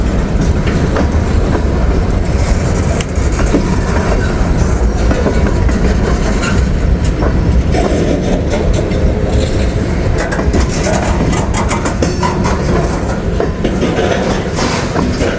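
A locomotive-hauled train rolls slowly past at close range, its steady rumble and rail clatter filling the whole stretch with no pauses.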